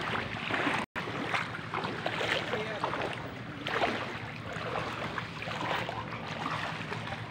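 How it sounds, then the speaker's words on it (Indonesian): A boat pushes through flood water in Sanggau during flood relief, a steady low motor hum with splashing and wind noise throughout, while people talk faintly nearby. "perahu sudah memasuki wilayah RT 3"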